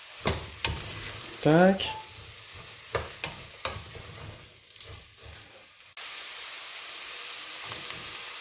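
Onions frying in a pan for shrimp bisque, a soft sizzle with scattered clinks and stirring knocks, joined by a brief voice, before a steadier hiss takes over near the end.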